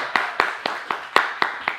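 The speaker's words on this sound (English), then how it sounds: "Give a round of applause for yourself back there." Slow, sparse hand clapping from an audience, about seven distinct claps at an even, unhurried pace, close and moderately loud.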